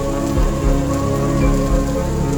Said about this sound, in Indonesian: Gerimis semakin rapat menjadi curahan hujan, menimbulkan suara gemuruh saat menimpa dedaunan hutan.